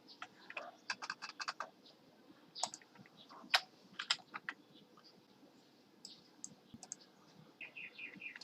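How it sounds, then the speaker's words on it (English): Keys clicking on a computer keyboard in quick, uneven bursts with pauses, including presses of the spacebar, fairly close and quiet, with no talking. "Now I just hit the spacebar."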